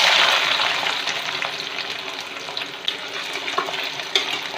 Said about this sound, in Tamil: வெங்காயம் ஓரளவு வதங்கினா போதும், ரொம்ப வதங்க தேவையில்லை, லைட்டாக வதங்கட்டும்.